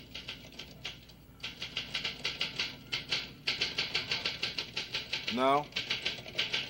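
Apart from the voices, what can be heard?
typewriter typing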